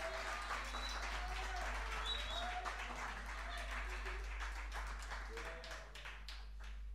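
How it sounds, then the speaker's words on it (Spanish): An audience at a live band concert applauds as the drummer is introduced. The clapping is faint and distant, with talk over it at first, then grows into more distinct claps toward the end. "un aplauso por favor"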